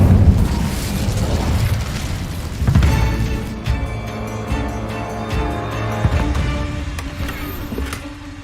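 An Incendio fire spell blasts in Hogwarts Legacy, giving a loud booming burst with crackling flames and further impacts and rumbles over several seconds, with no voices.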